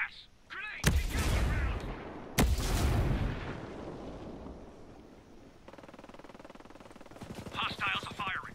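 Bursts of heavy gunfire from hostile soldiers in the tactical shooter game Ghost Recon Breakpoint: two loud, sharp blasts with rumbling tails, then lighter rattling shots and distant crackle, with voices talking over it.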